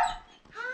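A dog gives two short, high yips close by, with a brief pause between them.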